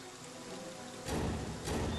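Rain falls in the horror video game Friday the 13th, a steady hiss of downpour with two sudden louder surges of heavier rain or gusts partway through, no talking.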